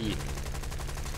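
Machine guns firing in War Thunder, a military combat game, as a dense, continuous burst of rapid rounds filling the short stretch at steady loudness, with no pauses between shots.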